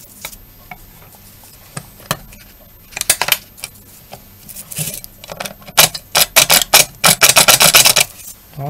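Metallic clicks, scrapes and rapid rattling bursts as a spring is worked into a lock cylinder of an Italian boat lock, growing louder and busier toward the end, close up with no talk.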